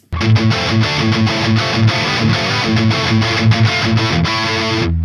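An SG electric guitar with stock Gibson pickups plays chugging high-gain riffs through a MESA Dual Rectifier or Driftwood Darkest Nightmare amp with its sizzle switch on, a loud, heavily distorted, rhythmic palm-muted attack that stops abruptly.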